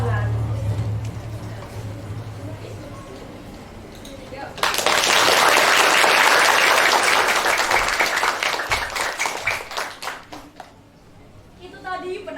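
An audience bursts into loud, sustained applause after a poetry recitation at a school drama performance, following a stretch of quiet speech and then tapering off, with a voice speaking over the end.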